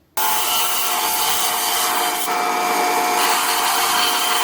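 Wood being sawn in one continuous, close, steady stretch of harsh scraping noise with a faint whining tone underneath.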